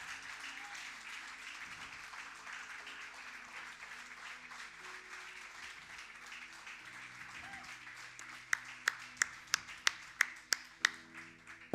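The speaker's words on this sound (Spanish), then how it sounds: "Dale un aplauso a Él." A church congregation applauds during a Spanish-language sermon, sustained clapping throughout with a few distinct, louder individual claps standing out near the end.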